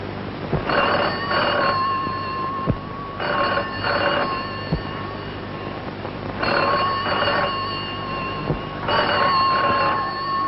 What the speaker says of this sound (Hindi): फोन होगा